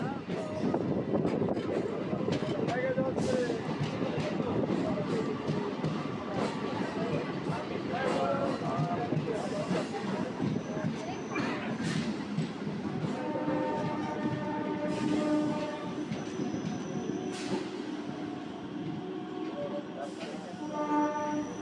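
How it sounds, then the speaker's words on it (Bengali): A local train on the Howrah–Tarakeswar line pulls into Diara station, its steady rumble and wheel clatter filling the scene, with brief high horn or whistle tones near the end and voices talking faintly underneath. "সবুজ মাঠ ঘাট পেরিয়ে আমাদের এই ট্রেন তার পরবর্তী গন্তব্য স্টেশন দিয়ারা স্টেশনে প্রবেশ করেছে।"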